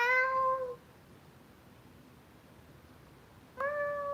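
A pet cat named Fred meows twice, a drawn-out meow at the start and another short one near the end, with a quiet gap between them. Both calls are close and clear, and no one speaks.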